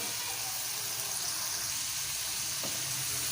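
Masala roasts in a pan for aloo paratha filling, a soft, even sizzle with a faint tap near the end, quiet and close with no voices.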